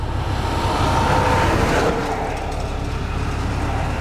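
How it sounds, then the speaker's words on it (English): A truck passes nearby as a loud, steady rumbling roar that fills the whole clip and eases slightly partway through, with no talking. "Wait for this truck to pass."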